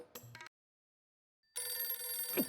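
A telephone rings in an indoor domestic scene from a Hindi sitcom, with a short ring burst, a second of silence, then a sustained bright electronic ring over background sound.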